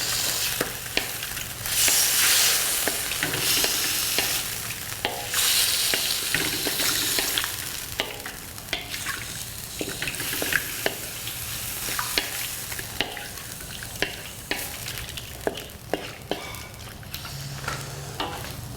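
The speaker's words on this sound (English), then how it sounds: "this is a whole lot of garlic. And we're gonna fry this thing up." A large amount of garlic fries loudly in a pan for shrimp fried rice, giving a continuous sizzle broken by repeated scraping and clattering as it is stirred.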